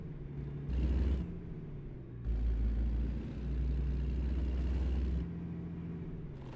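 A truck pulling a trailer in a trucking video game grinds through a three-point turn in a yard, a low engine rumble that swells and drops as it revs and shifts, steady and close, with no talking.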